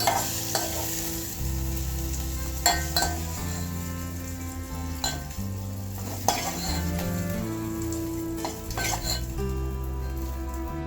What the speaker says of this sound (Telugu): ఇలా వేగిన తర్వాత తీసుకుందాం